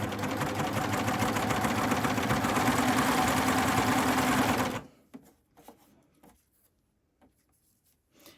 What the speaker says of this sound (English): do a little bit of a test sew just to see if it's lined up